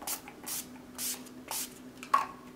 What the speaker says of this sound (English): I set my Urban Decay makeup setting spray